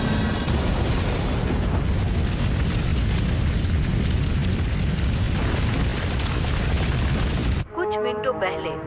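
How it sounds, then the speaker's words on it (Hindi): A massive roaring gas pipeline explosion fills the air with sustained heavy rumbling, then abruptly drops away as a voice speaks. "गैस पाइपलाइन के फटने से बड़े धमाके सुनाई दिए"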